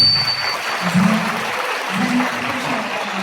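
An audience at a celebration of a singer's 30-year career in Sumqayit applauds, a broad wash of clapping with low tonal music or hum beneath it.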